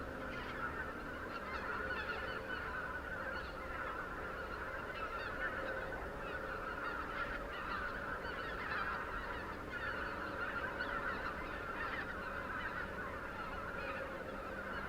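Canada geese pass overhead in a large flock, their honks overlapping continuously in a dense, steady chorus at moderate distance with no voices over it.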